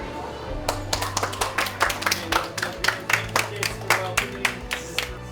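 A teacher's class gives a round of applause as someone walks into the classroom: crisp, evenly spaced claps in a steady rhythm, close and fairly loud, with voices faintly underneath.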